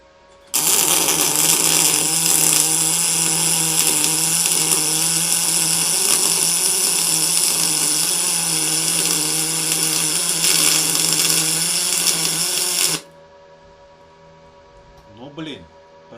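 MIG welding of aluminium on a Spika Multi-GMAW 350-3 welder produces a loud, continuous hiss and crackle that holds steady for about twelve seconds at close range, then stops, leaving a quieter background.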